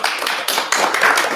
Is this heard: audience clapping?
yes